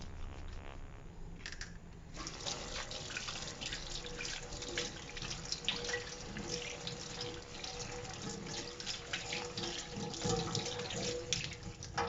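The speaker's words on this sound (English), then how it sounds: "now for a demonstration, I will wash my hands using my liquid soap dispenser." Hands are washed under running water at a sink with an Arduino-based liquid soap dispenser, a steady close stream of splashing and dripping water lasting several seconds.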